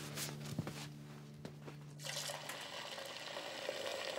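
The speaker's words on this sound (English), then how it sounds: "I'll fill up your water bowl" Water pours into a cartoon dog's water bowl, a steady trickling fill with a few drips running for several seconds, close and moderately quiet.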